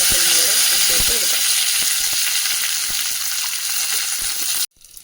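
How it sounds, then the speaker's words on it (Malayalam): Mustard seeds, shallots and curry leaves hitting hot oil for a moong dal curry tempering, a loud close continuous sizzle with crackling pops that cuts off abruptly near the end. "എണ്ണ ചൂടായ ഉടനെ അതിലേക്ക് കടുക് ചേർത്ത് കൊടുക്കാം ചുവന്നുള്ളി കറിവേപ്പിൻ്റെ ഇല"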